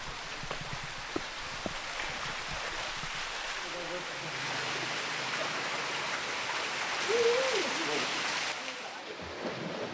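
Steady rushing water from a waterfall pouring into a pool at a desert oasis, a broad continuous wash that swells slightly midway, with faint voices and a brief higher vocal sound in the background.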